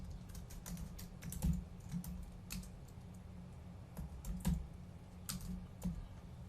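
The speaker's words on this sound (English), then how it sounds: "we're going to type in our keywords" Steady typing on a computer keyboard as keywords are entered, soft close key clicks in uneven bursts with brief pauses and no talking.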